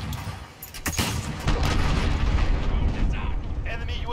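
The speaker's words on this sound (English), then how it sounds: "Enemy cruise missile, take cover." A cruise missile strike in Call of Duty Modern Warfare: a sharp crack followed by a heavy, sustained rumbling explosion with debris noise, loud and close, with faint game voice chatter.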